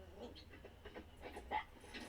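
Dogs on a walk pant in quick rhythmic breaths with a brief whimper, fairly faint and close, with no clear talking.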